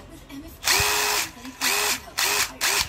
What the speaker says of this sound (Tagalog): habang iniikot niya yung screw, hinahammer niya